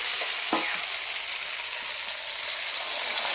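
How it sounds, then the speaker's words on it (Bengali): Mutton frying in a pan hisses and sizzles loudly and steadily as water is poured in, with a brief sharper crackle near the start. "এখন আমি সিদ্ধর জন্য জল দিয়ে দেবো।"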